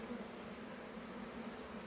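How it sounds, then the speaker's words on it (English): A bee swarm hums around a hive box, a steady, dense buzzing drone with a constant pitch that holds evenly throughout, with no voices. "And most of the bees are coming out of the air."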